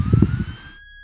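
A police vehicle in Roblox sounds its wail siren, a steady tone heard up close over a brief burst of low rumbling that fades out, leaving the tone alone.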